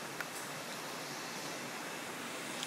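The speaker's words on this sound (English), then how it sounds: "Just come through the jungle, there's the river." A jungle river near Davis Falls waterfall in Belize rushes as a steady, broad hiss of flowing water, constant and moderately faint, with no voices.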